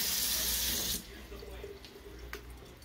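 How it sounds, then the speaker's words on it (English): Cold water runs from a sink tap to fill a small mini egg cooker, a loud steady gush for about a second that then cuts off, leaving faint trickles and drips. "So I just use really cold water from the sink."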